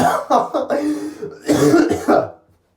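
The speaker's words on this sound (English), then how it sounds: "It makes me cough like that." A run of harsh, breathy coughs up close, several bursts in quick succession with a short pause midway, then trailing off into silence.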